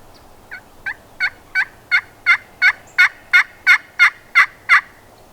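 A wild turkey gobbler gobbles repeatedly in a long series of about a dozen rhythmic calls, building in loudness, carrying clearly across an otherwise quiet outdoor setting in South Carolina.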